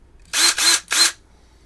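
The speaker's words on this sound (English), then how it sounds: "I'm back with the drill" A power drill whirs in three short, high-pitched bursts, close by, with brief pauses between each spin-up, while hardware is fitted to a Telecaster-style guitar kit body.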